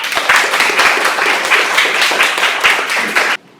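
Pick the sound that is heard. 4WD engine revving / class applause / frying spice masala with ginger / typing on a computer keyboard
class applause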